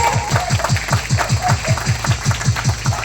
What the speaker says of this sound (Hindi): पर हमारे प्रॉफिट अमृत आइन का भी हम लोग स्वागत करेंगे, ताली बजाकर जोर से।